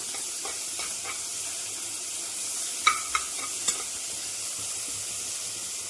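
Green chilies and garlic sauté in a pan over low flame, a steady close sizzle with a few sharp spatula clinks and stirring scrapes partway through, no voices.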